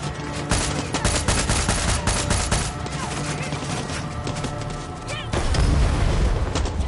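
Grenade blasts and heavy gunfire from Far Cry 6 roar loud and dense without pause, with overlapping shots and booms and a fresh burst near the end.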